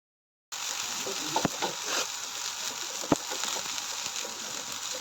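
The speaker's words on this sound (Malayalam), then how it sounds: "ഈ ഒരു സമയം നമുക്ക് നമ്മുടെ മുരിങ്ങാപ്പൂവ് അതിലേക്ക് ചേർത്ത് കൊടുക്കാം. നല്ലപോലെ മിക്സ് ചെയ്ത് കൊടുക്കണം." Drumstick flowers stir-frying in a pan for muringappoo thoran, a steady close sizzle with a few sharp scrapes and taps of a spoon, beginning after a moment of silence.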